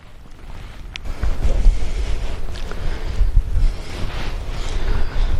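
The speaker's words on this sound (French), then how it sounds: "Il y a un peu de vent aujourd'hui" Outdoor wind buffeting the microphone, with low rumbling gusts that rise and fall unevenly and no voices.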